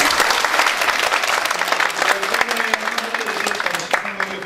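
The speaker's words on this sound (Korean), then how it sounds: "참석해주신 모든 분들에게 큰 박수를 드리고 마치겠습니다." A crowd applauds steadily throughout at the close of a panel discussion, dense clapping filling the room at a strong, even level.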